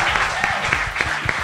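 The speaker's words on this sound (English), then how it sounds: "Can you give a round of applause" An audience at a conversation-style talk show claps in a brief, dense burst of applause, with a voice talking underneath.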